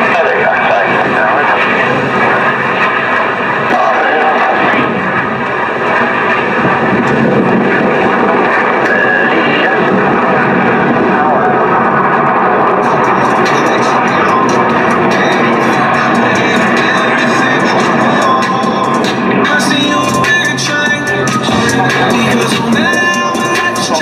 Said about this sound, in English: all four pilots will simultaneously roll their aircraft 360 degrees as they perform the diamond aileron roll.